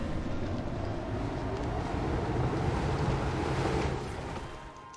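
Ocean waves beside a mountain railway in the pre-alpha game Reforj, a continuous rushing wash of surf with a low rumble, steady and moderately loud before easing off near the end, with a few faint high chirps and no talk.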